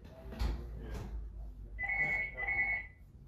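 An electronic telephone ringtone sounds in two bursts near the end, preceded by background noise and a muffled knock, loud and close with no talk over it.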